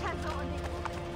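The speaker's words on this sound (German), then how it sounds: "Das ist mein Pferd, was da wegrennt." A horse gallops away in an Assassin's Creed game, its hooves clip-clopping in quick rhythm beneath a layer of in-game ambience and music, fairly quiet.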